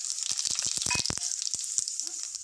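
Whole cloves, cinnamon, cardamom and shahjeera frying in hot oil, a bright, dense crackling sizzle with rapid popping spatters, close and loud throughout.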